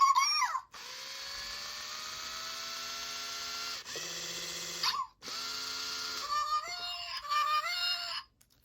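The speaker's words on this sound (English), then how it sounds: "Let's see if her motor actually runs." A Zhu Zhu Pet toy's tiny electric motor whirs in several separate bursts, a thin high buzzing that stops and restarts, shifting pitch slightly with each run, close and fairly quiet.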